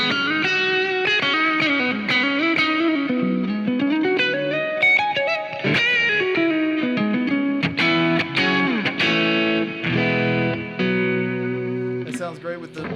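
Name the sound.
electric guitar driven tone through Sir SL68 amplifier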